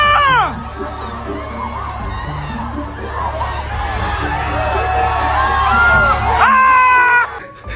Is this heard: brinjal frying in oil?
no